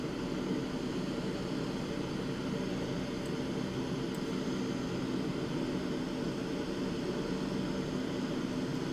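Steady airplane engine drone on landing approach in a flight simulator game, a constant even hum with no speech and no change in level.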